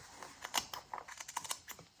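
Snips cut through layers of denim fabric, a quiet, rapid run of small crisp clicks and crunches in close succession over about two seconds, with no voices.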